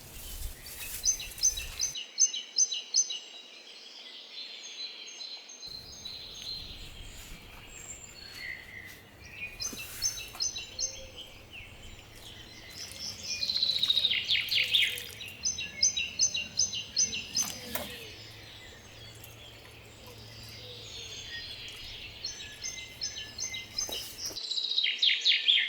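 Wild birds chirp and sing in a winter garden, with repeated bright calls and trills close by and no voices.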